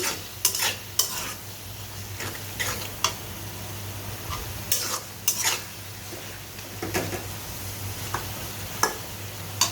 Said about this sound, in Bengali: এখন ভালো করে এটাকে নেড়ে নিচ্ছি